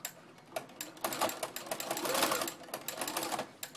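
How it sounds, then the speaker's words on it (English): A sewing machine fitted with a ruffle foot gathers fabric into ruffles for a girl's dress, running steadily with a loud, rapid clattering chatter that speeds and slows slightly, close by and alone. "your ruffle foot is going to make a lot of noise"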